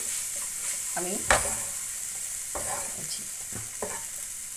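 Chicken and onion cooking in a pan on a low flame, a soft steady sizzle running throughout, broken by several short stirring scrapes and one sharper clink near the start.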